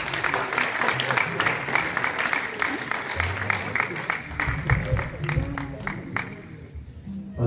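A congregation at a wedding blessing in Paris claps and cheers continuously, with dense, sustained applause and crowd noise throughout, while voices mingle within it.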